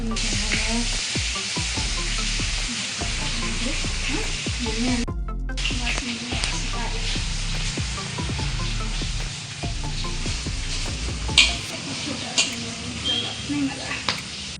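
Coriander seeds frying in hot oil for spicy puffed rice murmura chivda, a continuous bright sizzle with stirring clinks, under intermittent conversation nearby.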